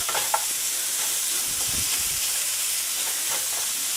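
A spoon stirs ingredients through hot bacon grease in a pan, giving a steady close sizzle with soft scraping strokes, no voices present.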